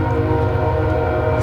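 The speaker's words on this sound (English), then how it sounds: "Sorry about the train. We're right by some railroad tracks." A train rumbles past very near railroad tracks beside a hunting camp, a loud continuous roar of wheels and horn-like tonal drone filling the clip, with no talking.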